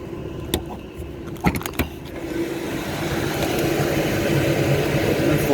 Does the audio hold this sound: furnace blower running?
yes